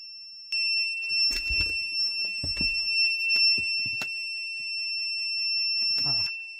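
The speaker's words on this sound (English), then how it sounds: "Something's beeping. What's the beeping noise?" A steady high electronic alarm tone beeps continuously throughout aboard a canal boat during battery wiring work, with people talking and moving nearby underneath it.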